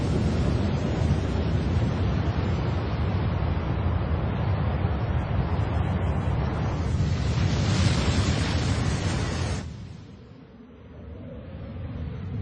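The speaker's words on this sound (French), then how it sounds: "Une masse d'eau inimaginable a alors été renvoyée en direction des continents." Massive ocean water surging back toward the continents after an impact, heard as a loud, continuous roaring wash of surf and wind that swells, then drops briefly before building again.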